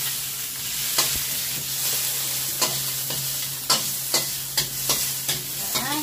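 Garlic, onion and lean pork sauteing in a pan, a steady close sizzle punctuated by regular sharp taps and scrapes of a spatula that come more quickly toward the end, with no talking.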